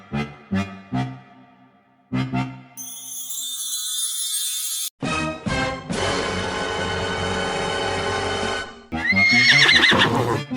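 Several horses neigh and whinny loudly in close succession, with long drawn-out calls broken by short snorts and a few hoof clip-clops, set in a Hindi children's story.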